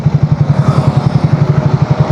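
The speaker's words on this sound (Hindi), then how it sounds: "सेकेंड लगाते हैं, सेकेंड में नो एक्सीलेटर इनपुट।" A Triumph Speed T4 350 motorcycle engine lugs along in second gear without throttle, a close, loud, low rhythmic thumping pulse repeating evenly and rapidly throughout.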